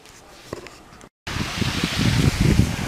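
Sea waves wash and hiss along a November shore at Side, a steady soft rushing surf that starts abruptly after a brief silence, broad and fairly close with no talk.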